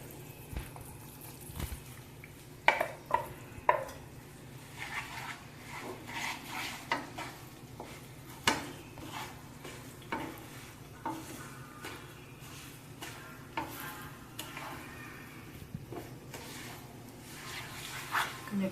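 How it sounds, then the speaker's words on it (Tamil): Coconut paste and dissolved sugar stirred steadily in a pan for coconut burfi, with repeated scraping and clinking of a spoon against metal and a soft sizzle underneath, close and continuous. "கொஞ்சம் கை விடாமல் கிளறிண்டே இருந்தால் சுருண்டு வரும்."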